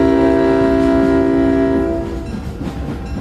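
A train blasts a loud, sustained multi-tone horn that cuts off after about two seconds, leaving the rumble and clatter of the rolling train close by.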